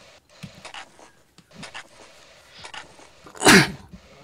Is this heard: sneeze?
yes